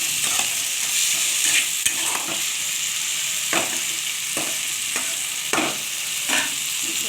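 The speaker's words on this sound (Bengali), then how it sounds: "এটা ভালো করে কষাতে হবে।" About 400 grams of chicken pieces being sautéed in a hot pan, with a steady, close sizzle and occasional soft scrapes and stirring knocks from a spatula, and no talking.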